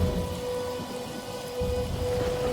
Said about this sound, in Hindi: उस दिन अचानक से बड़ी बारिश होने के कारण